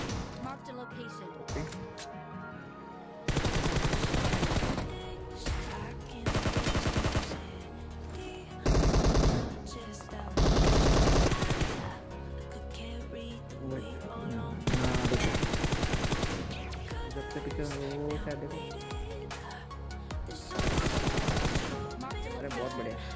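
Gunfire in the mobile battle royale game BGMI, heavy automatic bursts in repeated loud blocks separated by brief gaps, with short single shots early on.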